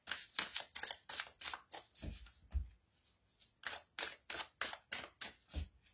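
Tarot cards being shuffled before a reading: a steady run of crisp, rapid riffling bursts repeating about twice a second, close and clear with no talking.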